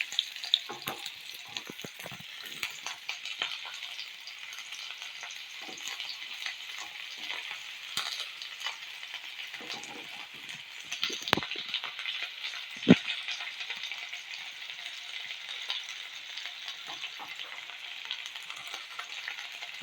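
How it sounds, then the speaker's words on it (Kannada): Chopped onions sizzle steadily in hot oil in a pan on the stove, a dense crackling hiss with occasional stirring clatters close by. "ಈಗ ಫಸ್ಟಿಗೆ ನೀರುಳ್ಳಿ ಹಾಕಿ ಫ್ರೈ ಮಾಡುವ."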